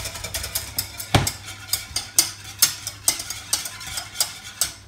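A wire whisk beats veal cream sauce in a pan with quick, rhythmic metallic strokes against the pan, close and steady, with a faint sizzle from gentle heat underneath.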